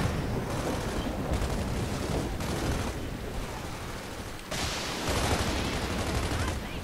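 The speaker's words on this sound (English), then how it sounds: "They're shooting through walls on my screen, you know." Gunfire in the video game Gears of War 3, a dense, continuous barrage of shots in loud waves with brief dips, voices faintly talking underneath.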